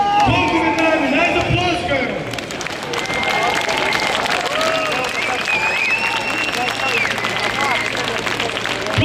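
Sustained applause and cheering from a large crowd at an anti-capitalist protest in Ljubljana, loud and dense throughout, with a whistle and voices mixed into the clapping.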